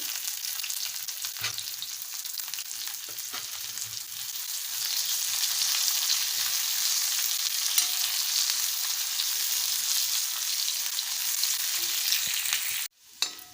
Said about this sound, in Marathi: आता त्यामध्ये कांदा घालते आणि कांदा पण आता भाजून घेते